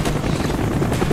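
A helicopter in Call of Duty Black Ops, its rotor giving a loud, steady, close throbbing roar that fills the whole short moment with no break.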